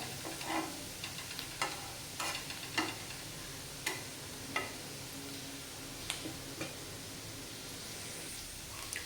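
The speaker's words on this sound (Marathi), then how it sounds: "त्याला अजून आपण दोन ते तीन मिनटं चांगलं परतून घेऊया" Onions sautéing in a pan make a low, even sizzle punctuated by a dozen or so crisp spatula taps and scrapes at a loose, irregular rhythm, close up and without speech.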